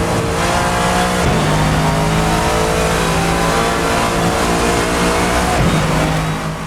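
Lexus GT3 race car in Assetto Corsa, a loud continuous engine howl climbing through the revs, with two sharp drops at gear shifts before rising again, close and steady with no talk.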